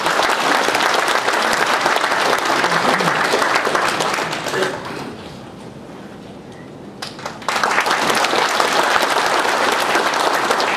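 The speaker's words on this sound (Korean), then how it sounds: "박수로 환영해 보시겠습니다." At an anniversary ceremony of a Buddhist association, an audience welcomes a Catholic priest with sustained loud applause that briefly dies down, then swells again.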